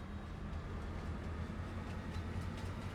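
A train reversing in Farming Simulator 25, with a steady low rumble of rolling railcars and a constant mechanical drone close by, running evenly without pauses or talk.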